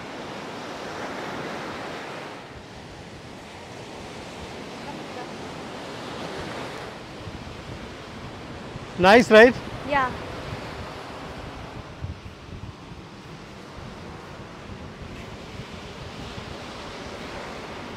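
Rough surf on the Arabian Sea at Gokarna, a steady wash of breaking waves with wind noise on the microphone, heard near and continuous while a few short words are spoken partway through.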